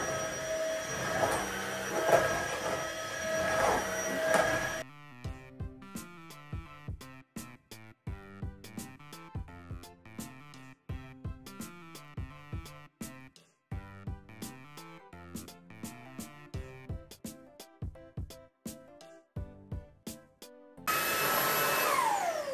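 A cordless stick vacuum cleaner whirs with a loud, steady broadband hiss for several seconds, drops out while a rhythmic tonal melody plays, then starts up again at the end.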